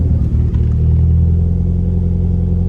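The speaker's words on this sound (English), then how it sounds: "It's a fresh cold start in the morning." Mitsubishi Eclipse GSX engine with FIC 2150 injectors idling after a cold morning start: a steady, loud, deep rumble that holds even throughout, with a brief dip early on and no talk.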